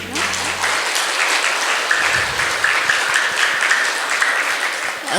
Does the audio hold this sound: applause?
yes